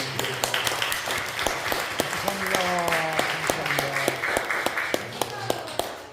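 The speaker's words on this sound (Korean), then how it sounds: "박수" A church congregation at a thanksgiving service in a retreat hall claps after a prayer, a sustained run of sharp, fairly close hand claps with voices talking over it.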